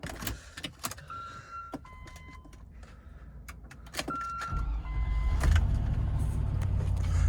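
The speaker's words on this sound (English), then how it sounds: "This one starts up fine, no crazy noises or anything." A Land Rover Discovery engine cranks and catches, then settles into a steady low idle, preceded by clicks, key jingles and a short electronic chime.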